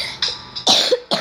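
A person coughs several times in quick succession, short harsh bursts close to the microphone with a throat-clearing quality, lasting just over a second.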